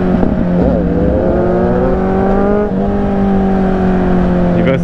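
Motorbike engine revving loudly and continuously, its pitch climbing and dropping through several throttle changes, close and steady with no talk.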